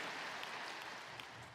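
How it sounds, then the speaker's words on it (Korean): A church congregation at a Sunday service applauds together, very faint and distant, a soft steady patter of many hands throughout. "우리 하나님께 영광의 박수를 드리겠습니다."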